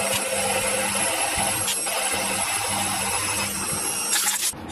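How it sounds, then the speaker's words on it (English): A power drill drives a hole saw through metal in a home machine shop, giving a steady, loud grinding whine that holds throughout with small shifts in pitch and a sharper scrape near the end. "cutting a hole with a hole saw worked so well for me last time I did it, I'm going to do it again"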